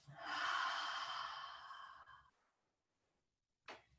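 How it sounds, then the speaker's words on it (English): A deep breath is pushed out through the mouth in one long, loud, breathy exhale lasting about two seconds, followed by silence and a short, softer breath at the end. "Again, deeply in through the nose, out through the mouth."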